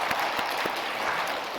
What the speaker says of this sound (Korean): 우리 장로님들 수고하신다는 의미로 우리 박수로 격려해 주시기 바랍니다